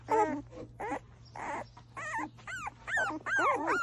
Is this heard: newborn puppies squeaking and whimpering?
yes